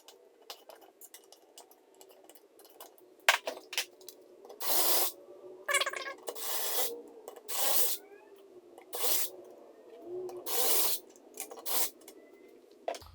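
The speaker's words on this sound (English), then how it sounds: "we're just gonna remove these screws, more Torx screws from the face around the horn button" Torx screws coming out of the face around the horn button on a BMW F80 M3 steering wheel: small metallic clicks and rubbing, broken by several loud bursts of hissing spray-like noise, nearby in a quiet room with no talking.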